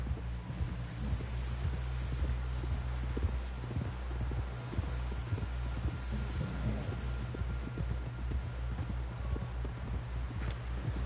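Horse hooves clip-clopping at a steady walking pace in the Red Dead Redemption 2 video game, an even rhythm of soft thuds over a low constant hum, quiet and without speech.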